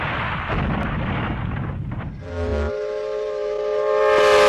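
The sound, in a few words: train crash sound effect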